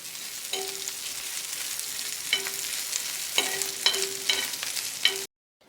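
Bombay duck (bombil) fish fries in a little oil at medium heat, a steady close sizzle punctuated by several clinks and scrapes of a utensil, then the sound cuts off abruptly; no one speaks.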